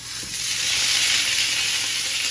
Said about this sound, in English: And of course I got my skillet ripping hot.